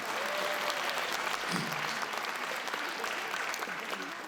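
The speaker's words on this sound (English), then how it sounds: "Ladies and gentlemen, Shri Suren Dayal, once again, a big round of applause." At a memorial lecture, the hall fills with continuous, moderately distant audience applause, an even wash of clapping throughout with faint voices underneath.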